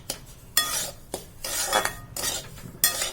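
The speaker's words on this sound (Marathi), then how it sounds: "आता हा रवा आपण असाच परतत जाऊया" Semolina roasting in ghee in a pan, stirred with a metal spoon: bursts of scraping and clattering against the pan come in uneven strokes, close and fairly loud, with quieter pauses between.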